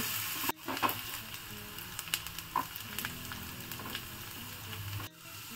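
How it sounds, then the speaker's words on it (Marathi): Chopped onion sautéing in a pan until golden brown for stuffed okra (bharli bhendi): a continuous close sizzle with occasional stirring scrapes and small pops, with a brief drop in sound near the start and again near the end. "कांदा आपला गोल्डन ब्राऊन होईपर्यंत आपण हा व्यवस्थितरित्या परतून घ्यायचा आहे"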